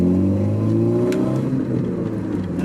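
A Volkswagen Jetta on its stock exhaust accelerates, a close, steady engine drone rising smoothly in pitch with a faint whir on top.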